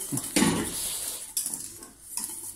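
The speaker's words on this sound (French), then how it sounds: "Là je soulève légèrement la casserole pour mélanger." A spoon scrapes and clinks against a metal saucepan of thickening pastry cream in short stirring strokes, close by, with faint kitchen background noise and no talking.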